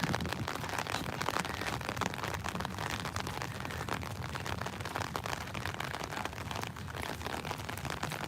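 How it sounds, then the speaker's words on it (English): Steady rain falls during an outdoor walk past war memorials, a dense, even patter of raindrops heard close and continuous with no pauses or voices. "the rain is coming down"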